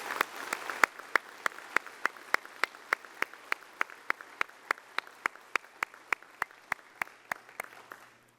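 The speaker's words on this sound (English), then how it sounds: "let's give our fellow veterans from the DAV Department of Arizona Color Guard a round of applause" Slow, regular hand claps at a veterans' business session, one sharp clap roughly every third of a second, steady and fairly close, with a faint murmur of room noise beneath.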